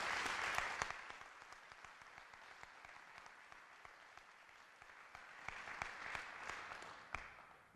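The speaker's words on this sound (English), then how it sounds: "I just want to give another round of applause for Mr. Ambrose." A graduation-ceremony audience breaks into applause, loud at first, dipping in the middle and then rising again before fading, with dense overlapping claps from a large crowd in a hall.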